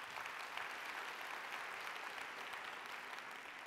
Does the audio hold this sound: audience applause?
yes